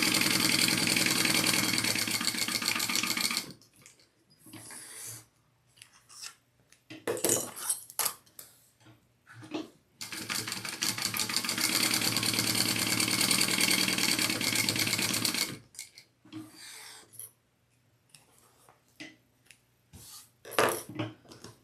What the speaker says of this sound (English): So I am just going to sew up the two sides.